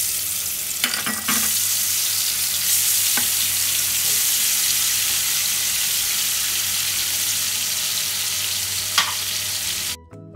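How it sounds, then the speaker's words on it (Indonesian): Tilapia fries in hot oil over medium heat, a loud steady sizzle close by, with a few brief stirring clatters before it cuts off abruptly at the end. "Ikannya digoreng dengan api sedang,"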